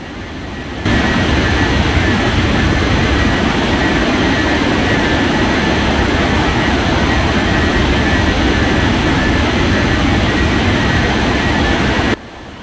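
A jet airliner takes off at Gran Canaria Airport with a loud, steady roar of engines and deep low rumble held for about eleven seconds, cutting off abruptly.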